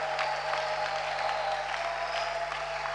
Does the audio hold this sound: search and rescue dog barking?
no